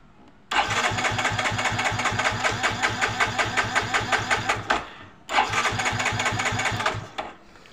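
A Yamaha Mio scooter engine cranks and catches in two attempts, a rapid rhythmic chugging that runs for several seconds, cuts out, then starts again briefly before dying away.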